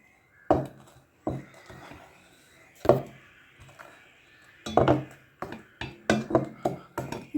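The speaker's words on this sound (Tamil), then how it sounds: "இப்போ நல்லா கலந்து கொடுங்க." Cucumber fruit juice with a pinch of cardamom powder and boiled, cooled milk being stirred, a spoon knocking against the vessel in irregular clinks and taps, with scraping in between, close and fairly clear.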